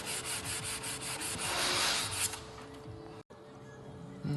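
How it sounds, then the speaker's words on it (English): 180-grit sandpaper rubbed by hand over a scuffed UPVC plastic window frame, a steady close scratchy sanding that eases off midway, pauses for a moment, then resumes. "180 grit sandpaper, really sand back until all the damage is completely gone."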